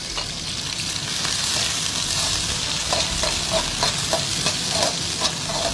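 Garlic, ginger and red chili stir-fry in hot oil in a wok, giving a steady, close sizzle broken by the scrape and clatter of stirring, with no voices.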